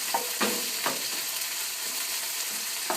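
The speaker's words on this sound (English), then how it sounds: "So just kind of stir it around in here." Frozen broccoli sizzling in a hot pan while being stirred, a steady hiss with a handful of soft scraping sweeps of the utensil early on, close and moderately loud.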